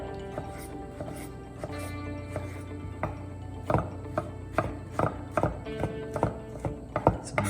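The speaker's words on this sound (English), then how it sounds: "just give them a couple nice little cuts here" A knife chopping heirloom tomatoes on a board, with a string of sharp, distinct cuts that grow louder and more regular toward the end, close by and without talk.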